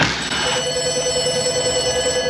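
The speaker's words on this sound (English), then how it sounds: "Your phone's ringing." A telephone in an auto repair shop rings with a sustained electronic trill, loud and steady throughout, with no speech over it.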